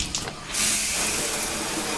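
Water from a hotel bathroom shower head runs steadily at a Days Inn, a broad hiss that swells after a brief quieter start and holds even and close with no talking.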